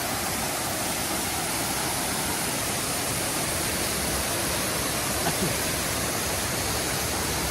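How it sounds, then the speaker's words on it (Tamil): Poolampara waterfall and river in Kerala, a constant, loud, broadband rush of falling water that never lets up, close and enveloping. "தண்ணி வந்து அப்படியே வேறு லெவலில் கொட்டும்"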